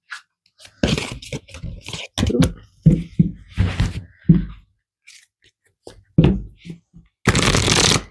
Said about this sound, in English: All right, I'm going to pull some more cards.